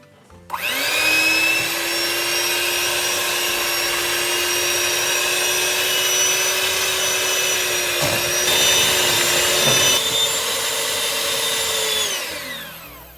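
An electric mixer whirs steadily on low speed through cream cheese flan custard ingredients, a loud, even motor hum that starts abruptly, holds for about twelve seconds with a brief dip, then winds down.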